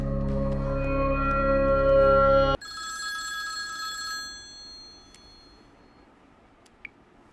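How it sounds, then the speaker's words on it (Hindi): A telephone bell rings loudly with a rich electronic tone, then cuts off abruptly and gives way to a fainter, higher warbling ring that fades into near silence with a small click. "हेलो, आपके यहाँ से कॉल आया था."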